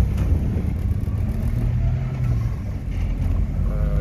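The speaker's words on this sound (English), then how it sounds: "We're back in first, we're going into second, going into third." Subaru Sambar KS4 kei truck driving on bumpy tires, with a steady loud low engine rumble and road noise from inside the cab and small shifts in pitch as it moves up through the gears.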